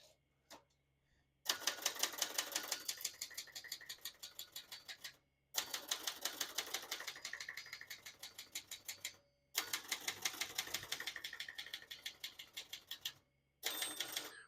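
Keys struck in quick bursts on a 1970 Brother XL-800 vintage portable manual typewriter, sharp close clacks in three long runs broken by short pauses and a brief fourth run, with no talking.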